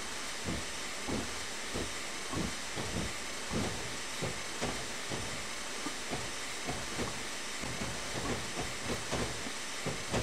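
Steam locomotive shunting cargo wagons in a Train Simulator 2016 game, with steady hiss and rhythmic chuffing pulses at a faint level.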